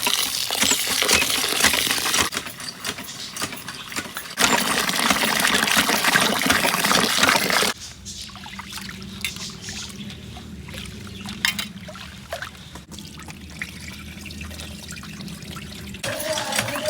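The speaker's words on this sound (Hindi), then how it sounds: "तो अभी हम चावल धो लेते हैं।" Rice being washed in water in a home kitchen while cooking dal and rice, with continuous trickling and sloshing water, louder at first then settling into quieter splashes and drips, no talking.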